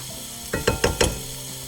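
Onions cooking in a pot with three tablespoons of olive oil give three quick scraping, sizzling bursts in close succession, framed by a quiet stretch before and after, with no talking.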